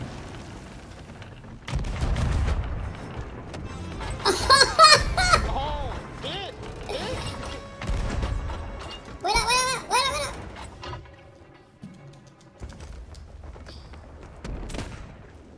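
Ship cannons boom in bursts during a naval battle in the pirate video game Sea of Thieves, heavy blasts and rumbling impacts mixed with game effects, with several people talking excitedly over the action.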